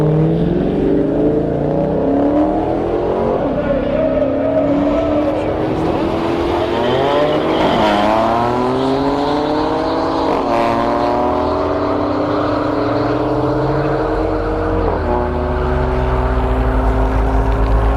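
A Corvette C7 and a second-generation Camaro launch in a drag race, loud engines roaring and climbing through repeated upshifts with sweeping pitch changes, close and dominant for the whole run.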